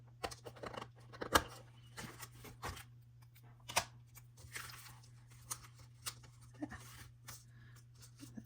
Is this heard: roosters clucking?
no